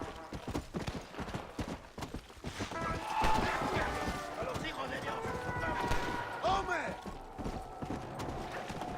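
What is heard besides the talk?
horse galloping in Red Dead Redemption: Undead Nightmare video game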